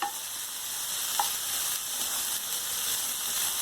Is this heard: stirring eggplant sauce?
yes